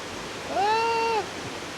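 Water spilling down a thinned-out waterfall on the Trail of Ten Falls gives a steady, soft outdoor rush, with a brief whistle-like tone rising above it midway.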